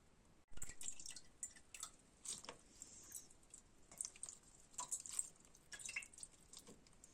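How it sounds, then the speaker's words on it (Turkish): Boiled chicory (radika) flowers are strained from a litre of water that was slowly boiled and left to steep for 10–15 hours; soft, uneven drips and wet squishes patter close by with no talk. "Sonra 10-15 saat dinlendirdikten sonra şimdi onları süzeceğim."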